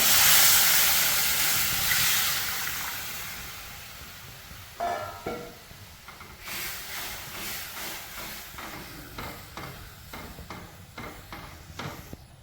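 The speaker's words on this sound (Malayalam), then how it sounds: "അപ്പോൾ ഇതാ പുളിവെള്ളം കൂടി ഒഴിച്ചു കൊടുക്കേ" Tamarind water hits a hot pan while making puli inji, giving a loud burst of hissing sizzle that slowly fades, followed by light clinks and scrapes of a utensil against the pan.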